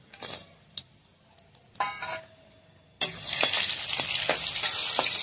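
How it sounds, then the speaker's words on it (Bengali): Pumpkin bori lentil dumplings frying in hot oil, at first a few faint clinks and crackles, then a loud, steady sizzle from midway on with sharp spatters breaking through it. "তাই বড়ি কটাও ভেজে নেবে সাথে দিয়ে।"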